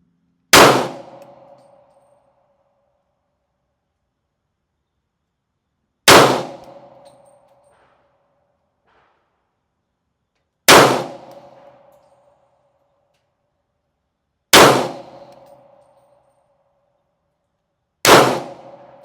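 A Smith & Wesson M&P 40 pistol fires five slow, evenly spaced shots, each a loud, sharp crack with a short ringing decay, separated by a few seconds of silence.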